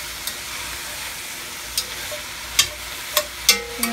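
Vegetables frying in oil in a pan while a brisket is being prepared, a continuous close sizzle broken by several sharp crackles and spits toward the end, with no one speaking.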